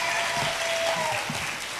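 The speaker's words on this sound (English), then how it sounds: "Let's give him a nice round of applause" A crowd at a cruise ship talent show aboard the Carnival Ecstasy claps steadily in a dense, even round of applause.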